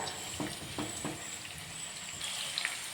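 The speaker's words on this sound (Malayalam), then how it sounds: "ഇനി ഇതൊന്നും തിരിച്ചിട്ട് കൊടുത്ത് ചെറുതായിട്ടൊന്ന് മൂപ്പിച്ചെടുക്കണം." Kalmas snacks, just flipped, fry gently in a pan with a soft, steady sizzle and a few light stirring or turning knocks near the start, close and quiet, no voices.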